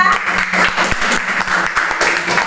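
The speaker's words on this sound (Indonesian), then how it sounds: "Tepuk tangan dulu untuk kelompok 3." A classroom of children applauds group 3 after their presentation with dense, close, continuous clapping that holds steady for a couple of seconds.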